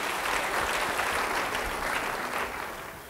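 Church congregation applauding during a sermon, a dense, steady clapping from a crowd that holds for about three seconds and fades slightly at the end.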